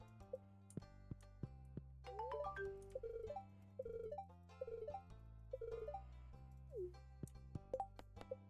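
Ringtone in the Stardew Valley video game, a faint melodic electronic jingle of short bouncing tones repeating over several seconds above a low hum of game music.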